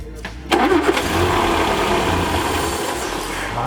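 A 1967 Land Rover Series 2A engine cranks briefly, then catches and runs at a steady, rough idle. The engine sounds loud and close, and no voices are heard.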